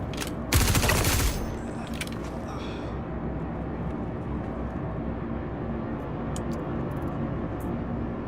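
Video game gunfire: a loud burst of rapid shots near the start, then a few fainter scattered shots over a continuous low mechanical rumble.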